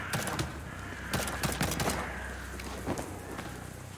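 Gunfire in the video game Liberated: scattered sharp shots and bursts crack over a steady background of game ambience, spread unevenly through the span with no voice.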